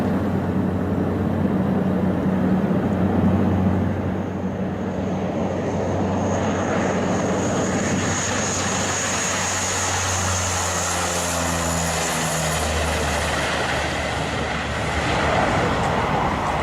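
Propeller plane taking off from a dirt runway in bad weather, a loud sustained engine roar with droning tones that shift in pitch as it accelerates, no voices.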